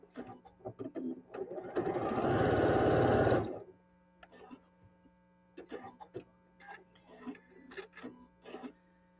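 A sewing machine runs close and steady for about two seconds as it stitches fabric along an angled seam, then stops, leaving soft handling clicks and rustles.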